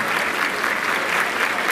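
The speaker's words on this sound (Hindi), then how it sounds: "आइए जोरदार तालियों से स्वागत करें माननीय मुख्यमंत्री जी का।" An audience greets the Chief Minister at a public ceremony with dense, loud, continuous applause.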